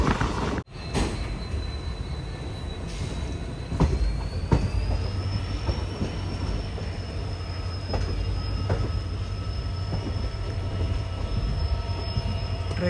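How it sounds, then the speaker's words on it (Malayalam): A Mysuru to Chamarajanagar passenger train runs steadily on the rail line, its rolling rumble continuous throughout, with a high wheel squeal rising and holding, a few clanks and knocks from the wagons, and no voices. "ട്രെയിൻ ഇപ്പോൾ അടുത്തൊരു സ്റ്റേഷനിലേക്ക് എത്തിക്കൊണ്ടിരിക്കുകയാണ്"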